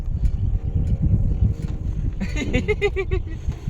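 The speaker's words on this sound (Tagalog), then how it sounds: "Mahangin dito." Strong wind buffets the microphone with a constant rumble outdoors near mountains in Bataan, Philippines, and a voice briefly rises through the gusts near the end.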